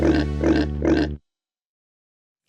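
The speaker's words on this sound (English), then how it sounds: "It's a pig." A pig oinks three times in quick succession, loud and close, then falls silent before a fourth grunt begins at the very end, within a children's farm-animal sound game.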